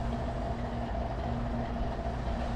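Train in the Trainz railroad game rolling into a coal tipple in hilly country, a steady low rumble and hum of wheels and cars, continuous and moderately close.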